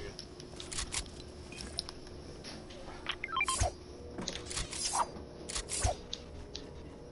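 Hidden loot chests in Fortnite give off a shimmering, tinkling chime from nearby, with scattered metallic clinks and short rising tones over a low game background.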